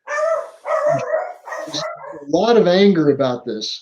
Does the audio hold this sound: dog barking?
yes